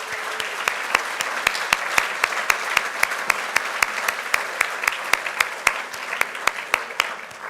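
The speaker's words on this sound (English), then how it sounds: "let's have a round of applause for all of these fine candidates" An audience at a city candidate forum in La Verne gives the candidates a round of applause. Sharp claps from one nearby person ring out at a steady rhythm over a softer bed of wider clapping.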